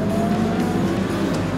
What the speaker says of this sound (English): the cars behind the safety car head to the line